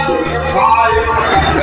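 Crowd of people inside the Bhadrakali temple, a steady murmur of chatter and footsteps with a voice talking over it throughout.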